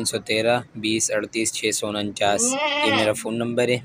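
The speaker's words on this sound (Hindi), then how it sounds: "मेरे पास ये एक बकरी है, और वाइट बकरी है" A white goat kept for sale bleats in a wavering cry near the middle, close by and mixed in with someone talking steadily.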